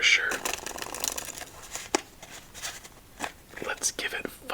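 A deck of playing cards riffled and shuffled up close in a quiet solitaire setting, a burst of crisp flutters followed by scattered softer snaps, with a soft whispering voice.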